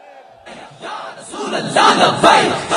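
A large crowd at a religious gathering roars a rising chanted slogan, many voices shouting together in swelling waves that grow louder toward the end.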